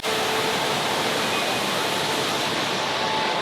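A steady, dense rush of falling water pours without pause, even and continuous like a cascade close by, from the indoor waterfall at Jewel Changi Airport, Singapore.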